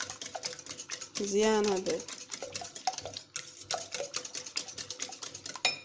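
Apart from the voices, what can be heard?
whisking madeleine batter in a bowl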